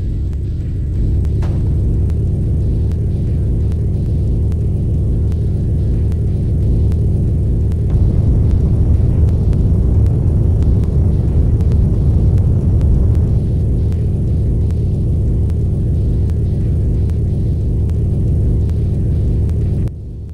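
A Piltdown vehicle in the PS2 game Tribes Aerial Assault gives off a steady, heavy low engine rumble with a constant whirring drone that holds at the same loudness the whole way through, with no voices.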